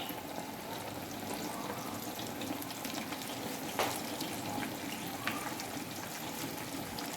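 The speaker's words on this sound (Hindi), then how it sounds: "कुकिंग ऑयल हमारा गर्म हो चुका है। अब हम नान डालेंगे।" Besan naan frying in hot cooking oil, a steady close sizzle and crackle running throughout with a few brief pops, no talking.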